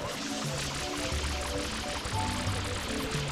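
Steady water spray from FLUDD, the water pack in Super Mario Sunshine, hissing and pouring continuously at close range, with soft game music tones running underneath and no talk.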